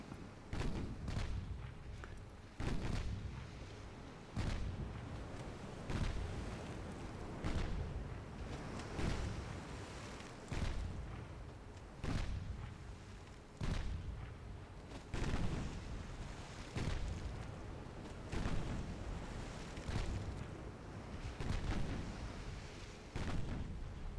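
Heavy booms from naval guns and explosions strike a German light cruiser in a warship battle game, about a dozen deep, fairly distant blasts rolling out at uneven intervals of a second or two.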